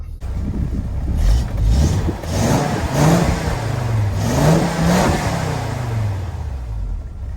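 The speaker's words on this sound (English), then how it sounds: "This is a 5-cylinder, so it does sound pretty decent, but I'll show you guys some revs" A five-cylinder car engine revs up and down repeatedly, its pitch climbing and falling in a throaty, rising-and-settling pattern, loud and close.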